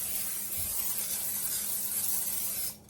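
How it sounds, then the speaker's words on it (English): Spray oil misted onto a griddle in one long, steady hiss close to the microphone, lasting nearly three seconds before cutting off abruptly. "if you have some spray oil, that's good"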